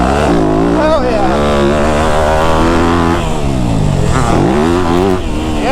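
A new KTM dirt bike engine revs loud and close, its pitch climbing and dropping in repeated throttle sweeps on a dirt track, with voices talking over the motor.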